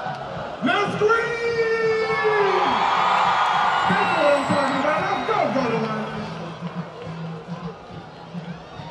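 Stadium crowd at a UAPB homecoming football game erupting in a loud, sustained scream and whooping roar that swells for several seconds, then fades into scattered shouts and babble.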